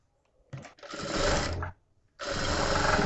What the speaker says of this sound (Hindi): हम उसी सिलाई के ऊपर एक और सिलाई लगा देते हैं